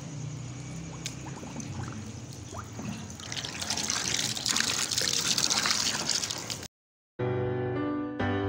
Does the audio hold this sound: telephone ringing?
no